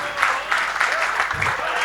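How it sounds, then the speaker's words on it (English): An audience at a tech conference panel at the Hilton in Mumbai claps steadily, dense applause filling the whole short stretch without a break. "Please give them big round of applause"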